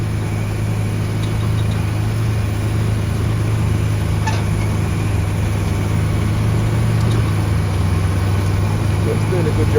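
A tractor pulls a spring-tine cultivator across a field after sugar beet, its engine giving a steady, loud mid-to-low drone with faint rattles from the implement throughout.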